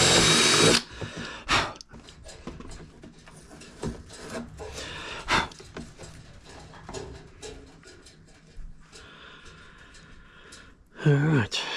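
A small power drill bores a 6mm hole through gel coat on an RC boat hull for an M6 thread, short whirring bursts and grinding scrapes up close, with a person talking in between.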